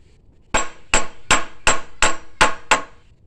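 Seven sharp, evenly spaced hammer strikes ring out close and loud as a bamboo picture stand is knocked together, each blow a crisp wooden knock with a short ringing tail and no talking.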